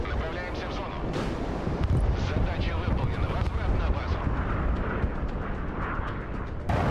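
MiG-35 anti-radiation missiles strike SAM vehicles in a combat video game, producing a continuous roaring rumble of explosions and blasts that stays loud and dense throughout.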